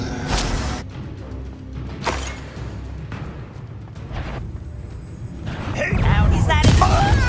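A Confringo blast spell exploding in Hogwarts Legacy, a loud booming burst with a whooshing tail that rumbles near the end, with a voice speaking earlier.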